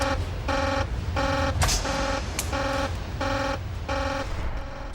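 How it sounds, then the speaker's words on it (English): Pulsing alarm in a nuclear reactor control room, a harsh buzzing tone repeating in steady on-off bursts roughly every half second, loud and continuous throughout with a brief clatter in the middle. "He's all too used to alarms like this."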